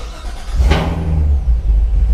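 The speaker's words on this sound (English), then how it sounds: "Here we go, the first startup in the garage." A new car's engine fires up for its first start inside a garage, a short cranking burst settling into a deep, close, rumbling idle.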